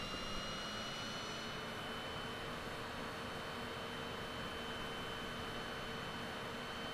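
A flight simulator aircraft engine holds a steady, loud roar with a high whine over broadband rush, continuous and unbroken throughout.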